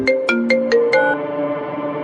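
A phone ringtone plays loud and close, a quick run of five bright melodic tones followed by a sustained ringing tail, with no voices over it.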